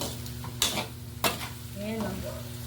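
Adobo with potatoes being stirred in a pan, with two sharp scraping clatters of the utensil over a soft, steady sizzle.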